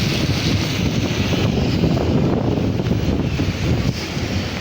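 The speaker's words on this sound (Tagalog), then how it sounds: "Pero mahangin." Strong, steady wind roars and buffets the microphone throughout, a dense continuous rush with no voices, during the southwest monsoon in Tutuban, Manila.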